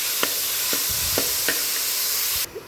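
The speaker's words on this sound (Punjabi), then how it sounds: "ਮਸਾਲੇ ਨੂੰ ਆਪਾਂ ਪੱਕਣ ਲਵਾਂਗੇ ਬਰਾਊਨ ਹੋਣ ਤੱਕ" Masala of onions and spices browning in a pan, with a steady broadband sizzle and a few sharp stirring scrapes at regular intervals, then cutting off abruptly near the end.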